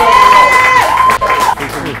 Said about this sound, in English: Please just give a round of applause and hold it together.